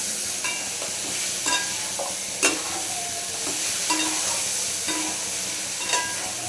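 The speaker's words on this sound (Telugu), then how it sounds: "ఇంకోండి చికెన్ అయితే వేసేసుకున్నా, దీన్ని కలుపుకుంటున్నానండి." Chicken being stirred into fried onions in a pan, steady loud sizzling under repeated spoon scrapes and knocks against the metal, close up and without talk.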